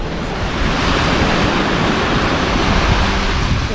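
Sea waves wash onto the beach right outside a large campsite in the Peloponnese, Greece: a loud, continuous roar of surf, close and unbroken, mixed with wind buffeting the microphone.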